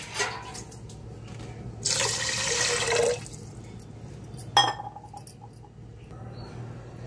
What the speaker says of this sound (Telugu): ఇందులో 5 గ్లాసులు వాటర్ వేసుకుందాము